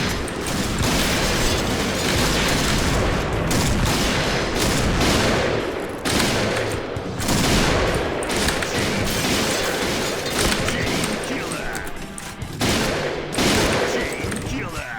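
Sustained gunfire in the shooter game Point Blank, with dense, continuous bursts of shots and booms close and loud across the whole stretch, broken only by brief dips.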